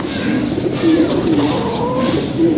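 Pigeons, some of them sick, coo in low rolling phrases that overlap into a steady, close chorus, with no talking over them.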